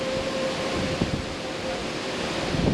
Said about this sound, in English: Boy, is it windy.